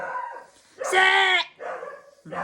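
A dog barks outdoors in several short bursts, moderately near: yaps and whining cries that rise and break off with brief pauses between them. No one speaks.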